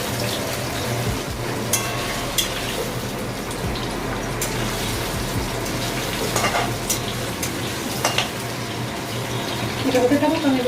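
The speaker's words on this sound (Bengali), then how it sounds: "মাছের আলুটা প্রায় ভাজা হয়ে গেছে" Potatoes for a Bengali fish curry fry in a pan with a steady, dense sizzle throughout, joined by occasional stirring scrapes and clinks, loud and close.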